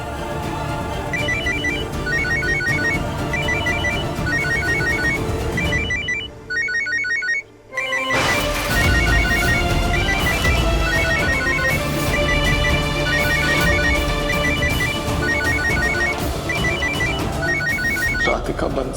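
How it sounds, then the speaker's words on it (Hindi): A phone ringtone plays in a repeating melodic pattern for a long stretch, loud and close, pausing briefly midway before resuming, with no talking over it. "एक काम करता हूँ, राधिका को फोन कर लेता हूँ।"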